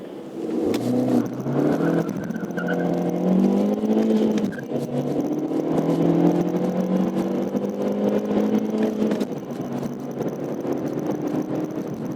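A 2020 Volkswagen Polo sedan with a five-speed gearbox accelerating hard, its engine note rising steadily through long gears with brief dips at the shifts, heard from inside the cabin with no talking.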